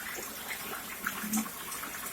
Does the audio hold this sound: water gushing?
yes